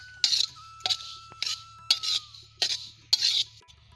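Seeds and ingredients being roasted in mustard seeds in a pan for a mango pickle, with a spoon scraping and clinking against the pan in about six evenly spaced strokes, close and with no talk.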